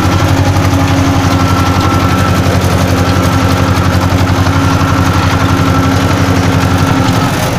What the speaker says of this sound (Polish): I ten ryk silnika.